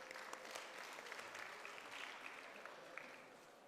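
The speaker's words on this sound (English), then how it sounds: "giving all the teachers a round of applause" A graduation ceremony crowd claps steadily in the distance, a soft, even patter of applause that holds throughout.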